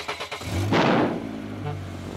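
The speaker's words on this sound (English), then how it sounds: "Let's have a nice loud rev." A cartoon truck engine gives a loud rev: a few quick low sputters, then a sharp roaring surge that fades into a steady idle rumble.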